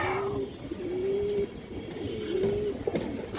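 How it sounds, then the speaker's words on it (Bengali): Muslodom pigeon of an old bloodline cooing, a few drawn-out tonal coos in a row, close and fairly clear over a low background rumble. "পুরোনো ব্রাডলাইনের মুসলদম কবুতর"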